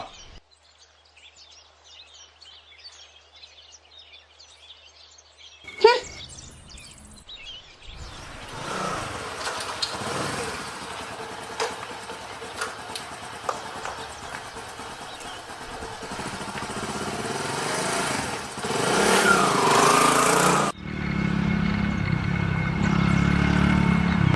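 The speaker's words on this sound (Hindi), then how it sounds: "मोहित, तू मोटरसाइकिल निकाल लिया भीतर से और इसे छोड़ गया।" A motorcycle engine is heard close by, first quiet with birds chirping and a sharp knock, then it roars into a loud, steady running drone that swells and surges toward the end.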